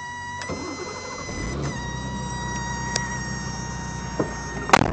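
A cold BMW E28 sits at a slightly high, smooth idle, a steady close engine hum with a few small clicks and knocks around it and no talk.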